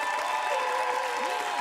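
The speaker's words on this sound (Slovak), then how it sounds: "Veľký potlesk" Audience applause at a Slovak 90s disco chart show fills the room as a steady, moderately loud wash of clapping, with a little crowd noise mixed in.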